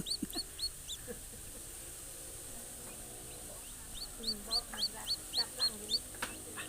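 High, thin cheeps of a chick abandoned by its mother repeat in a quick series, with a few scattered peeps early and a steady run of them later, close and clear over quiet background.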